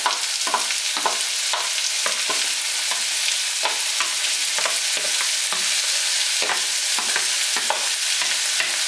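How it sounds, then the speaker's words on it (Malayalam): Ingredients for a makhana and peas curry are sautéed in oil in a pan, a steady hiss broken by regular scraping strokes of a spoon, close up with no voices. "ഇനി നമുക്ക് ചറപറാന്നായിട്ട് ഇളക്കി കൊടുക്കാം."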